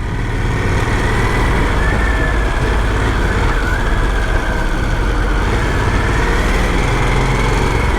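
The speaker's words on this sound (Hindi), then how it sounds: "I'm finally gonna ride the Sportster S" Harley-Davidson Sportster S motorcycle with its 1250 cc Revolution Max engine, a loud, steady droning engine note while riding through a city, with a slight rise in pitch midway and no break.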